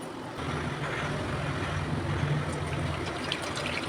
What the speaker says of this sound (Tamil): first ball ஊற்றிக்கிறாங்க